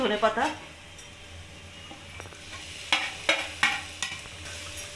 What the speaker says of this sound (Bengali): ধনেপাতাটাও আলুর সাথে ভালো করে মিক্স করে আমি ভেজে নিলাম।